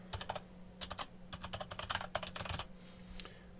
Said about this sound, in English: I would type in my email address,